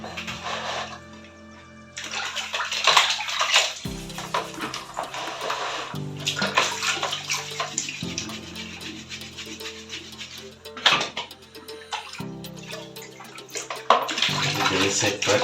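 A removable refrigerator part is washed under a running tap, and water rushes and splashes loudly and steadily for about fifteen seconds. The flow briefly cuts and restarts and its pitch shifts as the piece is moved under the stream.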